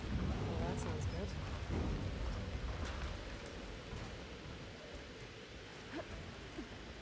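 A thunderstorm in the Horizon Forbidden West video game rumbles with low, rolling thunder over a steady hiss of rain, loudest at first and easing slightly, with faint scattered drops on top.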